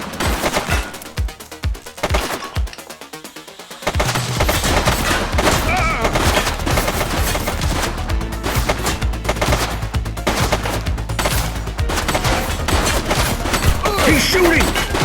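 Sustained automatic gunfire during a police shootout in The Precinct, a few separate loud shots first, then a dense, continuous fusillade of rapid bursts, with voices calling out over the shooting.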